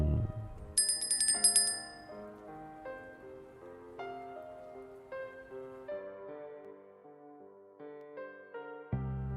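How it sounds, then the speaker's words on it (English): A small notification bell on a live forex trading stream gives a bright, high ringing chime near the start, followed by softer tonal notes with no talking. "it's the little bell for the notifications"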